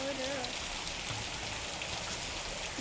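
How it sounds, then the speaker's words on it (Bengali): Steady June monsoon rain pours down outdoors in a constant even hiss of drops on surfaces. A brief voice can be heard near the start. "বৃষ্টি নেমে গেল"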